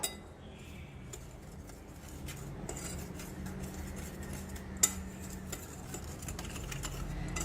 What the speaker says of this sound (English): Now we shall mix it all together.